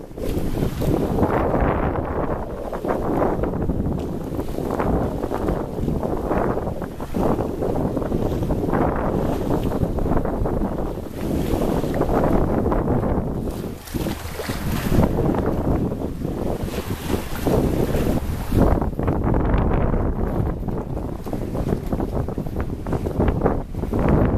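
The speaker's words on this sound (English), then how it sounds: "we see white water roll back from our bow as it slices through the swells" Steady rushing of water against a moving boat's hull, with heavy wind buffeting the microphone throughout, loud and continuous with surging swells.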